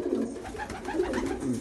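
Racing pigeons coo softly in their loft, a close, low repeated warbling that carries on throughout.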